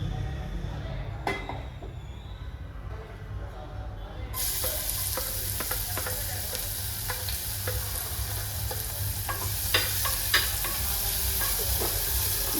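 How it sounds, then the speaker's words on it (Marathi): Chopped onion frying in a little oil in a pressure cooker, a steady close sizzle that jumps louder partway through, with scattered clicks and scrapes of stirring throughout. "त्यामध्ये मी आता टाकलेला आहे कांदा"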